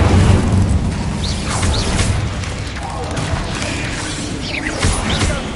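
Bursts of fiery spell effects from the Incendio fire spell in Hogwarts Legacy, loud whooshing flames and crackling impacts mixed with combat clatter, with a voice speaking over the action.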